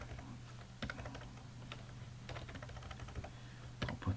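Fingers tap out a password on a computer keyboard in a quick run of soft, close clicks, with a few firmer key presses and no voice over it.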